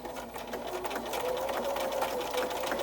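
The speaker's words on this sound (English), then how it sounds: "you can just use your regular sewing foot and sew 1/8 of an inch from the seam" A sewing machine stitches a reversible casserole dish hot pad, its steady close whirr running continuously without talk.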